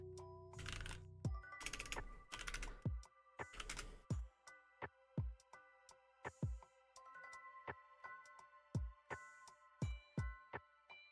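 Typing on an old, dirty computer keyboard: irregular bursts of sharp key clicks and clacks, some heavier strokes, close and fairly loud with no talk.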